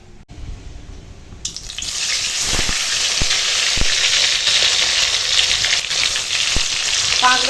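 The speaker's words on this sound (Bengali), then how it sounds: "এখন চাল কুমড়ো ভেজে নেব" Ash gourd pieces drop into hot oil and a strong, steady sizzle erupts, crackling continuously with a few soft knocks of a utensil.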